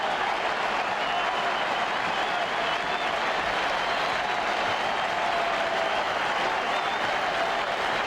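A sellout baseball crowd at a Mets World Series game roars steadily on its feet, a dense, continuous wall of cheering and clapping that holds loud and even throughout with no break.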